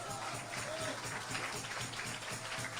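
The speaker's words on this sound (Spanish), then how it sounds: "¿Cuánto pueden dar un aplauso al Señor?" A church congregation applauds during a worship service, a steady wash of clapping filling the room with no gaps, with some voices mixed in underneath.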